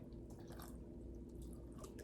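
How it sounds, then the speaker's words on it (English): Water drips and trickles into a small drip pan while transplanted kale in a container is watered, a faint steady patter with a low hum beneath. "So I'm going to water them really good."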